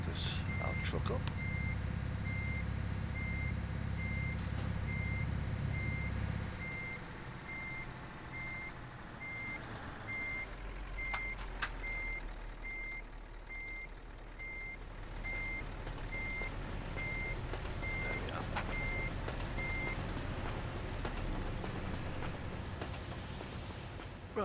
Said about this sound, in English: park our truck up.